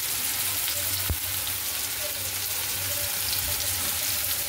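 Tomatoes fry in a pan with salt and turmeric, giving a steady close-up sizzle with a single sharp knock early on.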